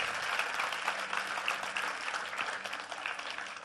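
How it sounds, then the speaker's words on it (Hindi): Sustained audience applause at a Ram Katha talk event, dense steady clapping filling the whole moment at moderate level with no speech over it. "आज तक के लिए भी तालियां।"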